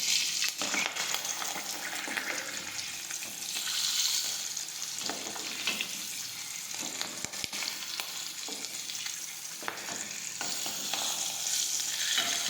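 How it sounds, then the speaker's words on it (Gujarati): Hot oil sizzling steadily around stuffed green chilies as they fry, a dense close crackle with occasional stirring knocks throughout, no speech over it. "હવે આપણે મરચાં છે તે તળાઈ ગયા છે"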